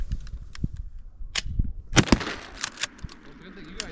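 Shotgun blasts at a duck hunt, a few sharp close reports with one heavy double crack in the middle, followed by rustling and faint voices outdoors.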